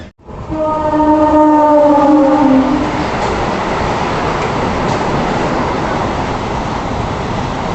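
Andhra Pradesh Express pulling out of Anakapalli station at night, with a loud sustained horn blast lasting a few seconds, then the steady rumble and clatter of the moving train carrying on.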